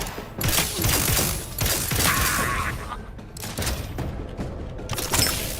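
Dense bursts of gunfire in The Outer Worlds 2, a sci-fi shooter game: volleys crackle loud and close with mechanical clatter and booms, nearly continuous across the stretch with brief lulls.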